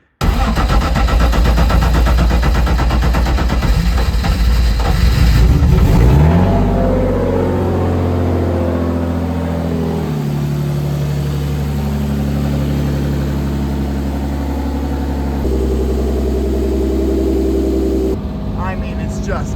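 A BMW E36 runs near and loud, revving hard at first and then settling into a lower, uneven engine drone as it is driven onto a trailer, with changes in pitch and a few shifts.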